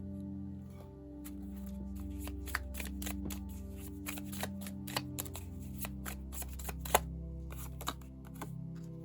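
Tarot cards shuffled by hand in a steady series of soft riffling snaps and flicks, close and fairly quiet, over a low background hum with no talking.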